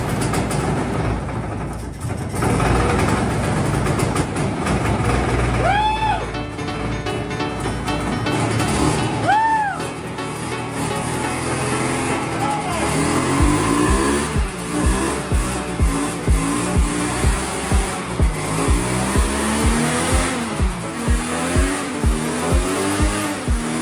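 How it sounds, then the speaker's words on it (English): An abandoned hovercraft engine, left sitting for 20 years, cranks over and roars to life, building into a loud, steady running drone with rhythmic revving pulses and no talking. "There is nothing like hearing an engine roar to life that's been sitting for so long."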